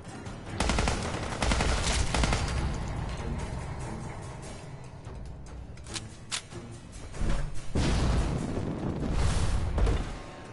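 Wet spitting and splattering bursts of acid from a Mirelurk-like creature in Fallout 4, near The Cove, come in loud broadband volleys with sharp impacts and crackling gaps, dense and busy across the whole stretch with no talking.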